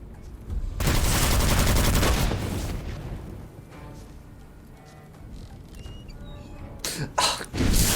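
Gunfire from a gun in the first-person roguelike game Witchfire: a loud, dense burst of rapid shots, then quieter game ambience, then a second short volley near the end.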